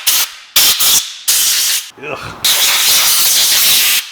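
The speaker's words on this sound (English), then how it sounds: "hit it with some compressed air so that way we can get rid of any excess dirt" Compressed air blasts in loud, close hissing bursts to blow dirt off a Chevy Cruze oil pump, starting with short spurts and ending in one long continuous stream, with a brief grunt from a voice between them.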